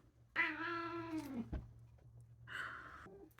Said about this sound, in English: Three cats in my studio.